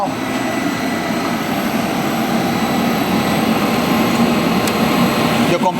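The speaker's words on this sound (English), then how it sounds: "the compressor already started." A Mabru SC17B 17000 BTU self-contained inverter air conditioner runs its compressor, producing a steady broadband roar and hum that holds evenly throughout, with a faint click near the end.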